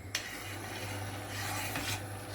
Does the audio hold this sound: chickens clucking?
no